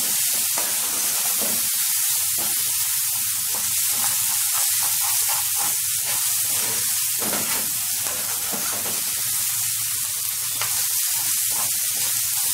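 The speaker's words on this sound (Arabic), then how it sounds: "وابتدي اشوح الرز بتاعي مع البصل وكده والقوانص" Rice being sautéed in a pan with onions and chicken gizzards, a constant loud sizzling hiss with faint stirring scrapes throughout, close up and uninterrupted by talk.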